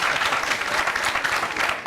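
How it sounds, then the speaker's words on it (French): Studio audience applause on a French television quiz segment, a loud continuous burst of many hands clapping throughout. "Mais on va les applaudir quand même."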